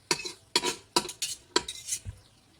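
A metal spoon clinks and scrapes against a pot in several quick strokes while tempering cumin, fennel and cashews for veg pulao, close and distinct, with no talking.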